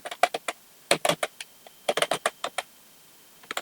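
Intermittent keystrokes on a computer keyboard while entering a Microsoft Access field name, clusters of quick clicks separated by short pauses, close and clear.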